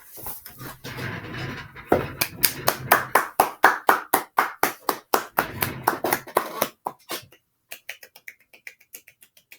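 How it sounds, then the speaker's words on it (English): A group claps a soft golf clap at the end of a children's book reading, several rounds of quick, light hand claps in a steady rhythm that thin out to a few scattered claps. "That's the golf clap."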